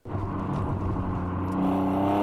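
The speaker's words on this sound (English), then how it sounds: "It's really smooth, it's creamy, it's revvy. It is just the perfect engine." An Alfa Romeo engine revs up from idle, a loud smooth whir that climbs steadily in pitch and swells toward the end, with no talk.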